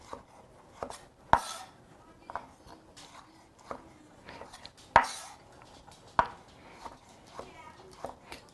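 A sharp knife slices black olives for a potluck pasta salad, making separate cuts against a board at an uneven pace, some crisp and loud, others softer, with faint talk in the background.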